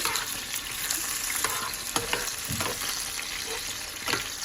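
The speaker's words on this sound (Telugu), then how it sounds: "ఆయిల్లో డీప్ ఫ్రై చేయాలి." Green brinjals deep fry in hot oil over a medium flame, a dense continuous sizzle with scattered crackles and pops, close and steady without speech.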